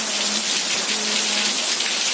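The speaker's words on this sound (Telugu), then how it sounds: "వర్షం పడుతుందని చెప్పు" Steady rain falls with a continuous broadband hiss of drops hitting surfaces, even and unbroken throughout, with no voices.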